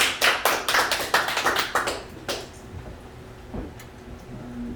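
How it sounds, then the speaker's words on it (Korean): Scattered hand clapping from a small audience at an indoor gathering, a burst of sharp, uneven claps near the mic for about two seconds that quickly thins out and fades into quiet room noise. "우리 회장님께 큰 박수 한번 부탁드리겠습니다"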